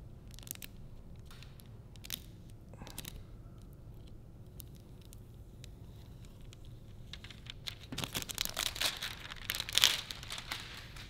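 Window tint film being cut and handled on a car quarter window, faint crinkles and light scraping early on, then a louder burst of close crinkling and slicing near the end.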